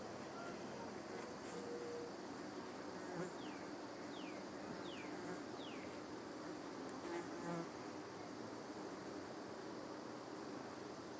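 Bees buzz in a steady, quiet drone across an outdoor scene, with faint distant sounds and occasional chirps mixed in.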